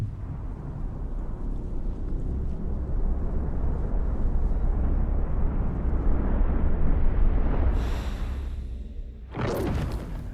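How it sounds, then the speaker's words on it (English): A big explosion erupts by the monolith in the video game Expedition 33, a long roaring rumble that swells for several seconds, then fades into a bright shimmering whoosh near the end. "A big explosion occurs by the monolith, then everyone starts to gomage."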